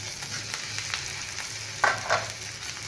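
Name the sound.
pakoras stir-fried into Schezwan rice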